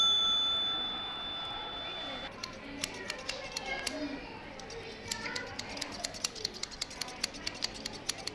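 Birds in a pet shop at a large shopping centre, with bright high chirps and repeated small ticking calls over a soft indoor background.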